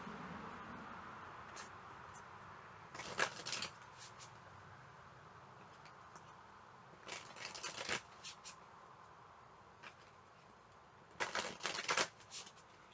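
Tarot cards are shuffled and drawn in a few quick bursts of riffling and flicking, separated by quiet pauses, close by and soft, with no talk during the shuffling.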